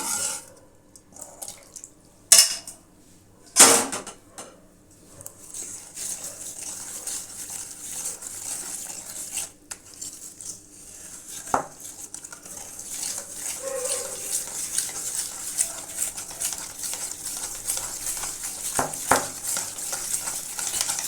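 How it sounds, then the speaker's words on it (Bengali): Bengali kheer patishapta pitha batter is mixed by hand in a bowl, producing wet, squelchy stirring sounds that start with a few sharp knocks and pauses, then build into steady, close, irregular sloshing. "এটাকে ভালো করে আগে যাতে দলা ফলা না থাকে সেরকমভাবে আগে মিশিয়ে নিই, তারপরে আবার দুধ দিয়ে পাতলা করব।"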